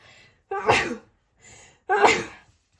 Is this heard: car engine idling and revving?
no